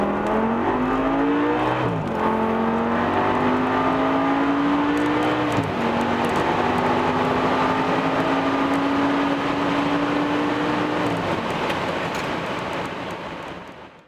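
A tuned 1040 HP Audi RS6 R with methanol and nitrous injection accelerating hard, its engine climbing through gears in long rising sweeps broken by quick shift dips, loud and close, fading slightly at the end.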